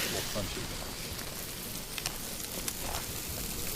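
Angus steaks with bacon sizzle steadily on a camp stove outdoors at a wilderness campsite, giving off a continuous crackling hiss that runs the whole time with a few sharper pops.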